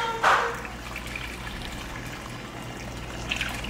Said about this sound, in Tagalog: mag-add ra kog tubig